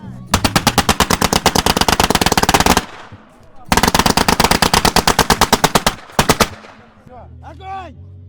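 Rapid bursts of gunfire at a Maslenitsa festival at the Muranovo estate, two long fast rattling volleys with a short pause, a brief final burst, then quieter background with faint voices and chirps.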